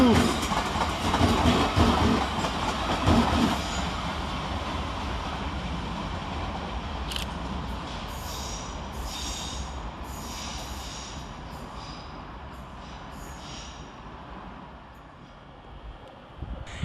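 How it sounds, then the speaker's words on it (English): A London Northwestern Railway Class 350 electric multiple unit pulls out of London Euston, wheel noise and rolling clatter strongest early then steadily fading as it draws away, with faint station sounds around. "Next out to depart is 350-257, working the 1454 London Northwestern Railway service to Tring"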